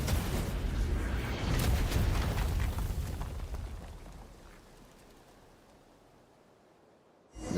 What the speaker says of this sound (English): An enormous explosion rings out.